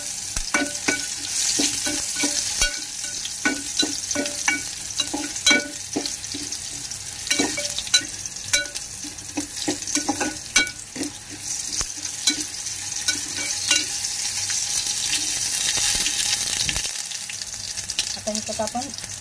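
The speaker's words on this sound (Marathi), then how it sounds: "आपण अद्रक पण टाकूया ह्याच्यातच बारीक कापलेलं. चांगलं फ्राय करायचं." Finely chopped ginger fries in a home kitchen pan, a steady loud sizzle with clinks and scrapes of stirring throughout for about nineteen seconds, with no talking.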